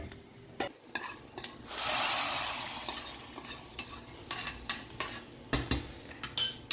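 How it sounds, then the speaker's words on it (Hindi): A burst of sizzling as a hot oil tempering is poured into moong dal, a loud hiss swelling then fading, followed by scattered clinks of a spoon stirring. "गैस की फ्लेम को ऑफ करते हैं और उस दाल में डाल देते हैं।"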